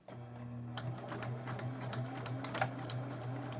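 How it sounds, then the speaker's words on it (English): A sewing machine stitches forward and then backstitches, giving a steady mechanical hum under a rapid, rhythmic clatter of needle strokes that starts abruptly and runs continuously at close range. "So I'm going to sew forward about 1 inch, backstitch 1 inch, and then continue on my line."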